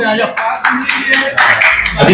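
Audience clapping breaks out at a prize-draw event, a bright crackle of many hands in uneven bursts, close and loud, mixed with voices in the room.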